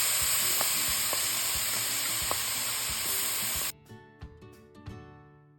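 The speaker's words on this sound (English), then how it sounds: "Now you can bump your heat up and allow the tomatoes to saute and cook." Crushed tomatoes hiss and sizzle loudly in a hot skillet for an aloo gobi, a steady frying crackle that drops suddenly to quiet clinks and light stirring taps.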